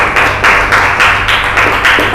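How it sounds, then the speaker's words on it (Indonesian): Clapping hands from a mathematics class of children, a steady stream of many claps in short bursts, fairly loud and close, with no talking over it. "tepuk tangan untuk kita"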